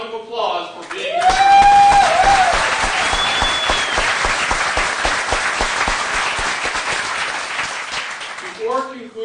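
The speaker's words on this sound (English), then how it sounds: "Why don't you all give yourselves a round of applause for being here?" Loud, sustained applause from the audience at a congressional debate, a thick roar of clapping that swells up after a short spoken line and carries on for about eight seconds before a voice returns.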